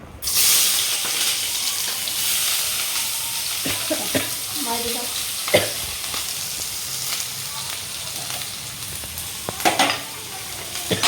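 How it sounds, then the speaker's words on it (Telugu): Onions frying in hot oil in a pan, a dense close sizzle running throughout with scattered clinks and scrapes of a spoon stirring against the vessel, no voices over it. "ఆయిల్ హీట్ అయిపోయింది. సో ఫస్ట్ ఆనియన్స్ ఇక్కడ"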